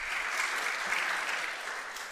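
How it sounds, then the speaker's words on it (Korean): A church congregation applauds the choir with dense, even clapping that fills the room at a steady level with no voices over it. "성가대 박수 한번 또 쳐"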